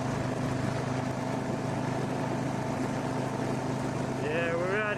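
Motorcycle fitted with three front lights cruising along a long straight road, a steady engine drone and wind rush throughout, with a brief rising whine near the end.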